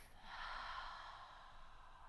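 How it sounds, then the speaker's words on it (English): A slow, deep exhale out through the mouth during a gentle morning yoga breathing exercise, a steady airy breath sustained for about two seconds, soft and close, with no talking over it. "and exhale through the mouth."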